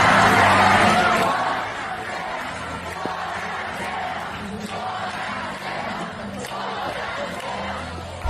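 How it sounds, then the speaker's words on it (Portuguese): A crowd booing governor Romeu Zema at a public event, a loud sustained mass of jeers and shouting that swells at first and then continues steadily. "o Romeu Zema sendo vaiado."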